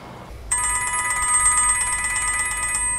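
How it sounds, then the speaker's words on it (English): An outgoing phone call rings with a bright, steady telephone bell tone that starts abruptly after a brief quiet moment and continues unbroken, clear and close. "I'm going to give Duncan a phone call just now."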